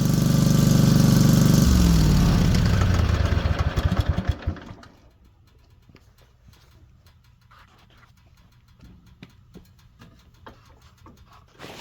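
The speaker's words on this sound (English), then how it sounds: "Start the engine and let it run for approximately 5 minutes." A loud Kawasaki FS600V small engine on a Great Dane mower roars at first, then cuts down to a quiet, uneven idle with faint clicks and rattles.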